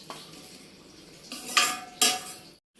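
Fried okra lifted from a pan onto a plate, soft background hiss broken by two sharp metallic clinks and scrapes of a utensil against cookware.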